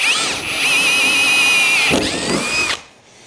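A power drill whines steadily at high speed through the metal body of a 1972 Ford Mustang Fastback, its pitch shifting slightly as it bites, then cuts off abruptly near the end.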